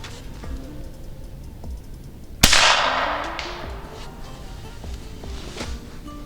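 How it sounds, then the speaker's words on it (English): Webley & Scott 9mm Flobert garden gun fired once, a single sharp crack followed by a short fading ring, set against faint background ticking and a quiet room. "It's a garden gun. That was really, really quiet."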